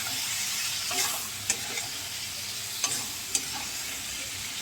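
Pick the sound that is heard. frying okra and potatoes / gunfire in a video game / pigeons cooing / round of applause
frying okra and potatoes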